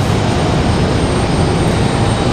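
A Boeing 757 begins to taxi at Raleigh-Durham airport, its engines a loud, steady broadband roar with an even rumble throughout and no voices.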